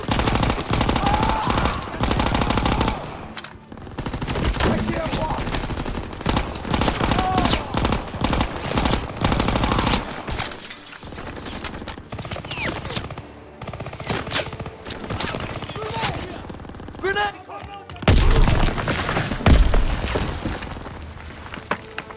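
Dense machine gun and rifle fire rages through a WWII battle in a 1944 video game, sustained bursts and overlapping volleys filling the whole stretch, with shouted voices and explosions mixed into the din.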